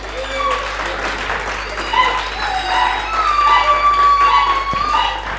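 An audience at a gospel show applauds for a singer, steady, fairly loud clapping mixed with scattered voices and high whoops throughout.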